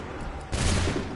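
Musket volley in Assassin's Creed 3: a sudden, loud, crackling burst of many guns firing together that rolls out briefly over a low background rumble.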